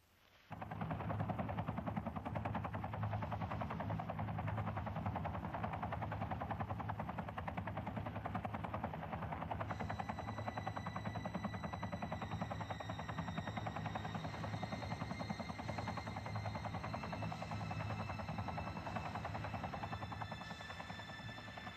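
Helicopter flying close overhead in an action film scene, a loud continuous rotor thump and engine roar that holds steady throughout, with a whining turbine tone joining midway, no talk.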